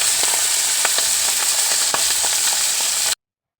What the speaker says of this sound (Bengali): প্রথমে মাছে নুন হলুদ মিশিয়ে আর মাছগুলো ভেজে নেব